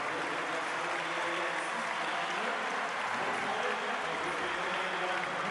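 Norwegian supporters in a fairly sparse stadium crowd cheer a goal against Sweden in a 2017 international friendly, a continuous broad roar of voices and applause that holds steady without letup.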